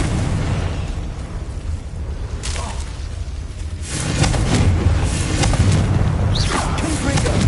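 A Confringo fire spell from the video game Hogwarts Legacy bursts with a loud booming blast and sustained crackling roar, following a quieter stretch of rumbling game ambience.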